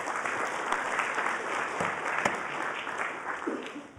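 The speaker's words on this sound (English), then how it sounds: "Round of applause for her as well." A lecture-hall audience at a university programming class applauds warmly, a dense steady clatter of many hands lasting a few seconds.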